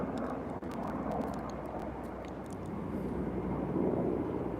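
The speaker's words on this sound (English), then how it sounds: "I'm gonna wait for this helicopter to go away." A steady low rumble of a helicopter passing overhead fills the whole stretch, loud and continuous with no talking.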